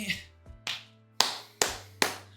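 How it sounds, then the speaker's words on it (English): Five sharp hand claps spaced about half a second apart, close and fairly loud with a short ringing decay in a quiet room. "I probably shouldn't clap because, like, I don't know, people could hear that"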